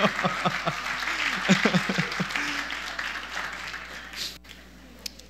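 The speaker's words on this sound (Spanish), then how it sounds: "Dale un aplauso al Señor." Applause from a church congregation during a sermon, a steady crackle of clapping at moderate level running throughout, with a voice speaking over it in the opening seconds before the clapping thins toward the end.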